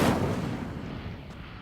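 Incendio fire spell cast in the video game Hogwarts Legacy, a single heavy blast-like whoosh that bursts loud at once and rumbles away over a second and a half.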